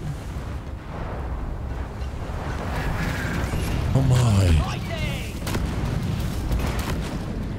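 Rumbling explosions and booming blasts from the video game Deep Rock Galactic fill the clip, with a sharp descending whoosh midway and a voice briefly exclaiming.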